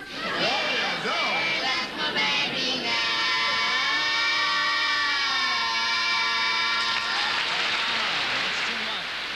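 Loud, sustained applause from a crowd right after a performed song, a dense wash of clapping that swells and holds for several seconds, with cheers and voices mixed in.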